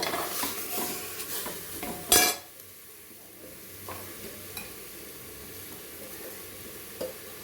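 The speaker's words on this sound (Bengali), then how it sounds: "অল্প একটু জল দিয়ে তাকে ভালো করে একটু একটু সাঁতলে নেবো" Chicken sautéing in a pan with a little water for a chicken stew, a low steady sizzle with soft stirring scrapes and one sharp clatter of a utensil against the pan near the start.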